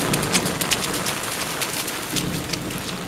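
Steady rain pours down close by, a dense even patter of drops filling the whole stretch with no voices over it.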